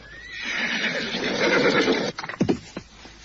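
A horse gives a long, loud whinny as its rider approaches, then a few snorts and sharp hoof or movement sounds follow close by.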